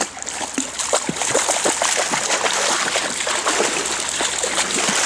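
A person in chest waders wades into a river with a dog, producing continuous close splashing and sloshing water with bursts of spray throughout, with no talking.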